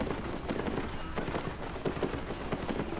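Horse hooves clip-clop steadily at a riding pace in the Albion Online video game, a continuous rhythmic run of soft thuds over a dense, noisy background with no talking.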